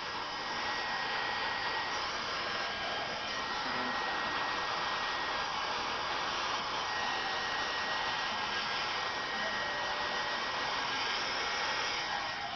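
A heat gun melts an organza flower with a constant airy blowing hiss, close and moderately loud, holding steady with no voices.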